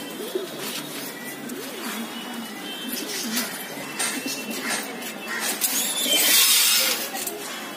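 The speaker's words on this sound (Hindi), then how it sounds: "हमने और कबूतर भी बाहर निकाल के रखे" Pigeons in a loft coo softly and repeatedly at close range, a few birds overlapping in low burbling calls, with some rustling and chirps growing a little louder toward the end.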